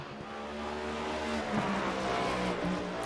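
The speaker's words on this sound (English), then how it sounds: "there's still a bunch of fast race cars to go. One of which entering the speedway now" A fast race car enters an oval speedway at a Stars & Stripes Next Gen Series event in Iowa, its engine a loud steady roar that holds close throughout with a slight rising whine and no talking.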